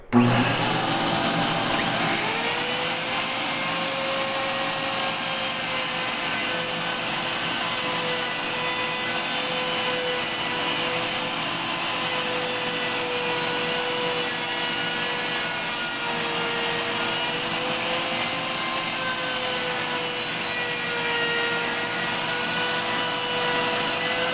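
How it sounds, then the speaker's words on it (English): A Ryobi router from a door hinge installation kit cuts a hinge recess into a door, a loud continuous high whine with a slowly wavering pitch that starts after a short spin-up and holds for over twenty seconds, with no talking. "I'm going to try to keep my hand out of the way, but I do need to have to hold the router."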